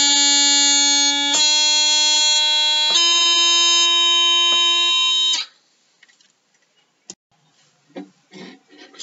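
A reedy bagpipe chanter plays a short phrase of held notes with quick grace-note flicks, a G grace note into C, then stops, followed by faint scattered noises.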